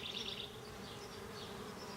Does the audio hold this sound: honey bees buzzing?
yes